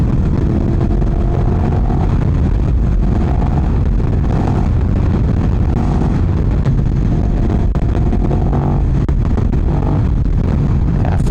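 A tuned sport motorcycle engine, a 2023 Yamaha R1 among others, pulling in fourth gear at low RPM, a loud steady rumble heard close with heavy wind buffeting over it throughout.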